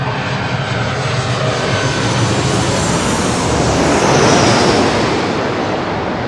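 Jet engines of a departing airliner at LAX, a loud, sustained roar with hiss that swells slightly midway, heard at close range with no talk.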